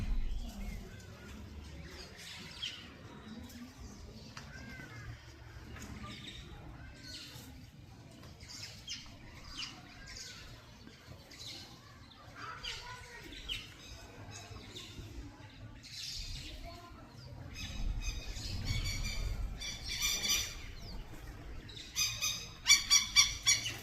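Birds calling outdoors while catching flying insects in mid-air, with scattered squawks and chirps at mixed distances over steady background noise, growing busier and louder toward the end.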